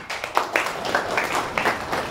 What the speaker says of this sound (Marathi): तुम्ही आता टाळ्या वाजवल्यात